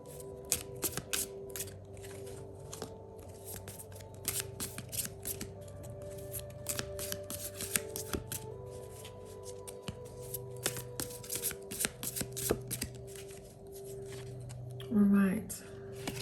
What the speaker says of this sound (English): Let's pull a couple of cards.